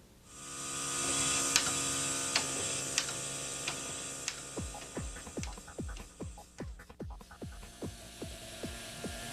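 A large commercial automatic vacuum seeder sowing seed: a steady mechanical hum and whine, then a fast, regular train of clicking and ticking pulses from the working mechanism, close and constant.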